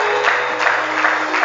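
A church congregation claps and acclaims the Lord during a worship service, a steady, dense wash of applause with faint regular pulses, close and continuous throughout with no talk over it.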